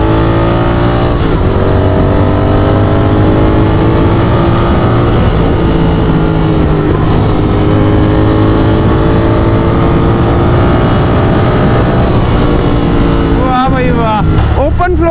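A Royal Enfield GT 650 motorcycle fitted with a loud, bassy Offtrails aftermarket exhaust drones close by, its engine note rising and falling as the throttle is worked, with someone talking briefly near the end.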